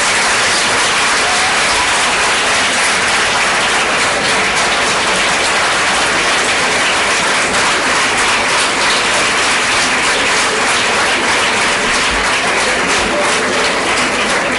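Loud, sustained audience applause welcoming a chief guest at a formal gathering, dense steady clapping from a large crowd that continues without a break throughout.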